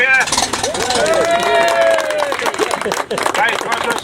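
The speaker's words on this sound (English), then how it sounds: "Let's have a big cheer." Outdoor crowd at an agricultural show's Ferguson TE-20 tractor rebuild event cheers and whoops loudly, with scattered clapping and rising shouts that last for several seconds.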